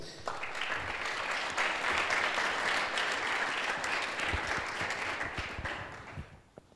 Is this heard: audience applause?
yes